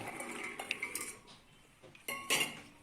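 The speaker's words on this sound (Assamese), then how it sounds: "কাবেলি বুটখিনি বইল কৰি লম কুকাৰত কাবেলি বুটখিনি দি দিছো" Metal utensils clink and scrape against a pressure cooker, with a few sharper rattles as chickpeas are tipped in, close by and with no talking.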